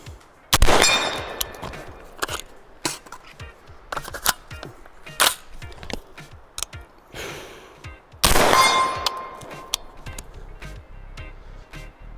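Gen-12 shotgun from Genesis Arms, a short-barreled model, firing at a steel target outdoors: two loud, sharp blasts several seconds apart, each with a ringing metallic clang, separated by smaller handling clicks and knocks.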